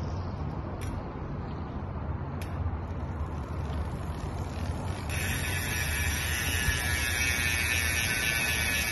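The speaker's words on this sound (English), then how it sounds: "Let's hear the hub as well." A Campagnolo Bora WTO 60 bicycle wheel hub spins freely, giving a steady, even whirring buzz that turns brighter and more hissy partway through, with no talking.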